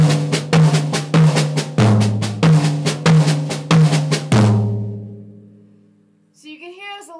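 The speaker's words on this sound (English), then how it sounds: "if I was just doing triplets without the accent, it would sound like this" Snare drum played in even, unaccented triplets, a steady run of close, evenly weighted strokes that stops and rings out, followed by a short burst of unrelated tonal sound at the end.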